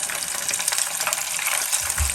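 Chicken wings fry in hot oil, giving a steady, close, bright sizzle and crackle that runs without a break and without any talking.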